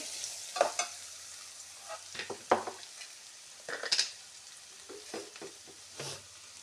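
Crushed ginger-garlic paste sizzles in a hot pan for a masala dosa filling, a soft steady frying hiss broken by intermittent scraping stirs of a spoon, close and alone with no talk.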